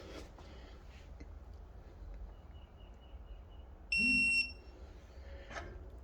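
A Snap-on TechAngle digital torque wrench gives a single short electronic beep, bright and clear, once amid quiet room hiss, lasting about half a second.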